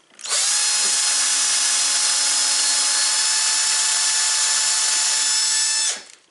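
Close, loud drilling into wood: a power drill with dull bits spins up and runs at a constant high-pitched whine for around six seconds before cutting off.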